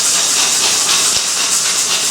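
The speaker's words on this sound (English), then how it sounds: "Salted boiling water here." A big pan of salted boiling water for cooking gnocchi hisses and bubbles steadily, a continuous close rushing sound with no pauses or voices.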